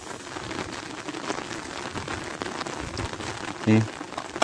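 Heavy rain pours down steadily outdoors near a hillside grave site, a dense continuous hiss with one brief louder thump near the end.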